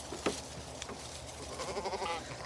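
Farm sheep bleating, one brief call early on and a wavering, tremulous bleat toward the end, heard against steady outdoor background noise with no talking.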